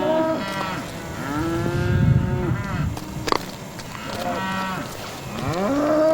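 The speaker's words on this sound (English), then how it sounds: "That's the sound of hungry cows." Hungry cattle on a ranch moo repeatedly and fairly close, several long, drawn-out calls from more than one animal overlapping across the stretch, with no talk.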